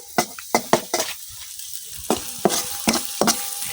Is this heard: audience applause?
no